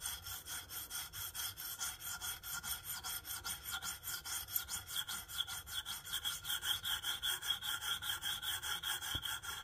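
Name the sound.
knife blade being sharpened on a KME stone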